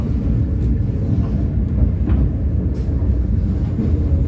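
A container freight train rolls at Semarang Tawang station, a deep steady rumble close by with faint metallic creaks above it and no talk.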